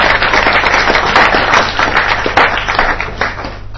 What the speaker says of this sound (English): So a massive round of applause,